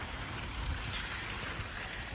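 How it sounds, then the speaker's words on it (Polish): Steady rain falls outdoors as a continuous soft hiss with faint low patter, even and unbroken throughout, with no voices. "i pada, i pada, i cały czas pada."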